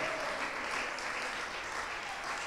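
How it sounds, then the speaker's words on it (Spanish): Church congregation applauding, a dense, steady wash of many hands clapping throughout, moderately loud and sustained with no pauses. "Dele aplausos al Rey de Gloria."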